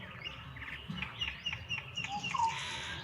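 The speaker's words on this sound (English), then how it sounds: "There's a great myna just perched next to me that's singing." A great myna perched close by sings in short whistled and chattering notes, faint over a quiet outdoor marsh background.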